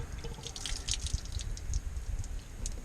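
Water drips from a broken black plastic cooling system fitting on an 8.1L Suburban 2500 after the system was flushed, giving steady faint drips and trickles with no voices.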